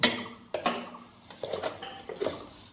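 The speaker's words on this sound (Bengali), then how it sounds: "এবার আমি এটাকে চেপে ঢাকনা দিয়ে দেব" Metal lid pressed down and set onto a pan holding banana-leaf-wrapped bele fish paturi, giving a few sharp clanks and clinks spaced across a couple of seconds, close and moderately loud with no talk.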